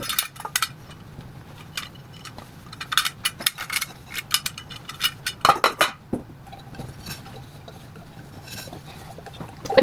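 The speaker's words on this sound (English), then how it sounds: "So guys, I'm done with wiping my pots" Saladmaster pots and lids clink and clatter as they are wiped dry with a cloth in a kitchen, with repeated close metallic knocks and scrapes in an irregular rhythm and no talking.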